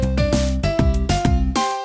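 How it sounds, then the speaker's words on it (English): The built-to-scale piano sample from the Rhythm Heaven video game plays a short run of bright, percussive piano chords in a bouncy rhythm, loud and clean with no voices. "It's often referred to as the built-to-scale piano"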